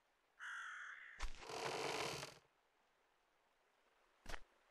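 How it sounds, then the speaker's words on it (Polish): A bird calls in the survival farming game Farmer's Father, a harsh crow-like caw followed by a rushing burst and one short sharp hit, clear and close with no talk. "To jest ptak. Zabiłem ptaka."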